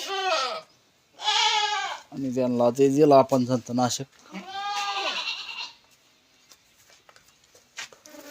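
Goats on a farm, being treated for worms, bleat in several loud, wavering calls one after another, with someone talking at times between them.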